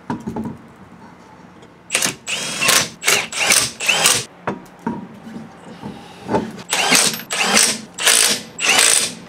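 Wheels going back onto a Z31 car, with a run of loud, evenly spaced ratcheting bursts as lug nuts are spun and tightened by hand tool, close and clear with no talk.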